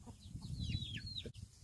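Young black layer chicks in a chicken tractor give a few thin, high peeps and chirps over a low, busy rumble of background noise, close and fairly soft.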